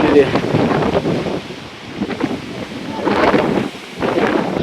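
Gusty wind buffets the microphone in uneven surges at Sarasgad fort near Pali, a rough, rushing roar that dips briefly before rising again, with a voice speaking now and then.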